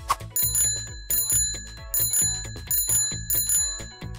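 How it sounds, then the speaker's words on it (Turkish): A bicycle bell rings in quick repeated double chimes, bright and metallic, several rounds in a steady rhythm, close and alone. "Evet, zilin sesini duydum."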